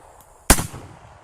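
A single sharp AK-47 rifle shot fires cheap Russian steel-case ammunition, a loud close crack with a short decaying tail in an otherwise quiet setting.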